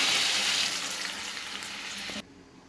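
Mustard seeds and curry leaves hit hot oil for a sambar tempering, making a loud, hissing sizzle that eases slightly, then cuts off abruptly near the end.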